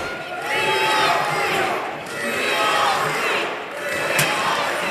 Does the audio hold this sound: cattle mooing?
no